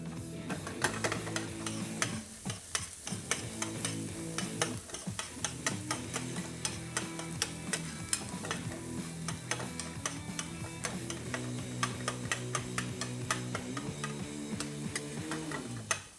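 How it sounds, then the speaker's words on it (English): Garlic and shallot sizzle in a hot pan while being stirred, a steady crackling fry with clinks and scrapes of the utensil against the pan throughout. "I'm going to throw in my garlic and my shallot. And I want to cook these. This time I want to hear that sizzle."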